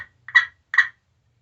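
Two sharp, short clucks from a glass turkey call, spaced about half a second apart, close and crisp against silence.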